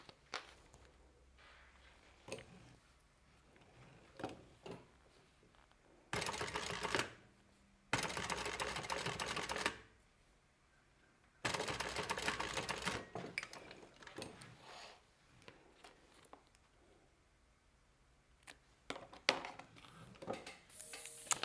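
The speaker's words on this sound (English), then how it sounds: "I'm going to top stitch that" A sewing machine topstitching zipper tape runs in several short bursts of rapid, even stitching, separated by quiet pauses filled with soft handling clicks and fabric rustle.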